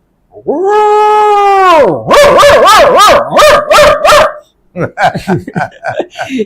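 A voice imitates a dog barking, first a long drawn howl-like yelp, then a quick run of loud, close barks and yips that pause briefly and resume in a shorter burst.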